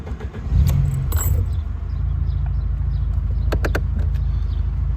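A 1991 Alfa Romeo Spider Veloce is started warm, a brief cranking burst settling quickly into a steady, close, low idle, with a light metallic jingle of keys near the start and a few clicks later on.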